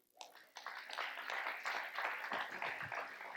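A live seminar audience in Orlando claps and cheers, a dense burst of many hands that starts abruptly and holds steady at a fairly loud level for a few seconds.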